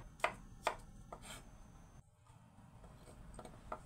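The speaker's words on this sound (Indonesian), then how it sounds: "Lalu diiris kecil-kecil, tipis-tipis." A knife chopping an ingredient into thin slices on a board, two sharp close taps early then softer quieter cuts, faint and sparse overall.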